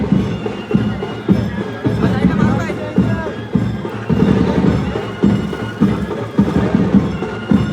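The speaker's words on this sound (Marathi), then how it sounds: "एवढी गर्दी आहे 2000 पब्लिक." A large crowd of pilgrims gathers at a palkhi procession in Navi Mumbai, making a dense, rumbling hubbub with rhythmic surges. A nearby voice speaks over the din.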